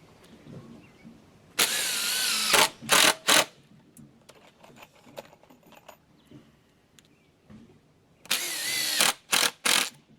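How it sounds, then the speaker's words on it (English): Two bursts of a power drill whirring through a treated 2x4 lumber board, each a few short high-pitched runs, with quiet shuffling in between. "So I'm just going to drill the first 2x4."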